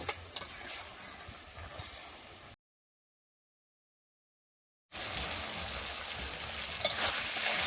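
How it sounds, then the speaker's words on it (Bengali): Fish sizzles softly in a frying pan while being stirred, a faint scraping fry that breaks off into a gap of silence before returning louder and steadier. "মাছ একই সাথে দিয়ে দেবো এবার দিয়ে নাড়া করে নেব"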